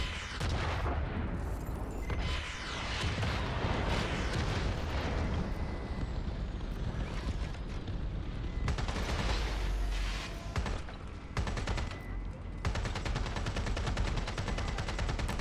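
Gunfire in the Watch Dogs Legion video game: repeated loud shots and bursts across the whole stretch, dense and continuous with several sharp clusters, no talk over it.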